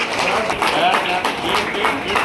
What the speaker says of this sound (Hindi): तालियां निरंतर बजती रहे